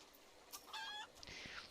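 A bird clucks in a video game, a short sequence of tonal clucks at moderate level over faint game ambience, followed by a brighter synthetic rush.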